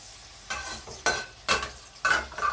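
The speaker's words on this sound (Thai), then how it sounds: "ผัดน้ำมันให้เขา" Bitter melon with egg and minced pork is stir-fried in oil, with four bursts of sizzle and scraping as a spatula tosses the wok at roughly half-second intervals, close and fairly loud, with no talking.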